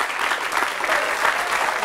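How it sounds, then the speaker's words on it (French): A studio audience at a TV talk show claps loudly for a child performer under ten, giving dense, continuous applause from start to finish. "on peut l'applaudir très très fort"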